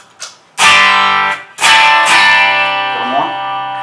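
Electric guitar pushed into a Marshall amp until it barely breaks up, with a couple of loud strummed chords ringing long after a faint opening pick, and a brief voice near the end.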